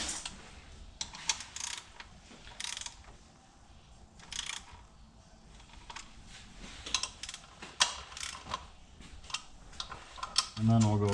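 A ratchet tightens bolts on the 3.0 V6 engine of a 2004 Ford Escape, giving bursts of quick light clicking with short pauses between them, close and fairly quiet while someone talks.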